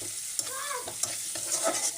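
Eggs frying in a pan while being stirred, a soft steady sizzle broken by light scraping strokes of a utensil, close and fairly quiet.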